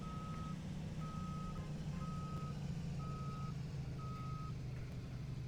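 Steady, evenly spaced reversing beeps from a bus in the game Rigs of Rods, chirping five times over a constant low engine drone, with no talk.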